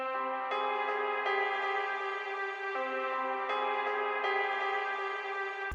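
Purity piano and legato strings play a melody together for a song remake in FL Studio, with sustained harmonic tones and notes changing every second or so, steady and moderately loud, with no voices.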